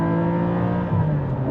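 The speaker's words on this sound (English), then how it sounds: "The way you really get sound out of these cars is out of the over axle pipes." Porsche 718 GT4 fitted with a Fab Speed exhaust, revving through its over-axle pipes, a loud steady engine note with a brief rise near the end, close and alone with no talk.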